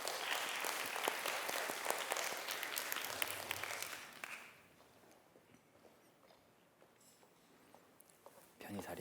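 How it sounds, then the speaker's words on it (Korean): Audience at an arts presentation event applauds for about four seconds of loud, dense clapping, which then fades to quiet room noise with light movement, and a brief burst returns at the end. "그럼 큰 박수로 유승아 큐레이터 모시도록 하겠습니다."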